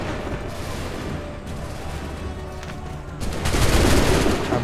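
Musket volleys in Assassin's Creed III, a battlefield of massed gunfire with dense crackling shots throughout and a louder, fuller burst of volley fire near the end.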